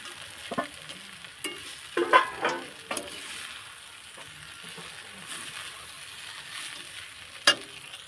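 Peanuts and poha fry in a pan for kande pohe with a soft continuous sizzle, broken by scraping stirs and a few sharp knocks of the spoon against the pan.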